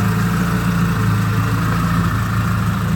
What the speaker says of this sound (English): Idling nicely.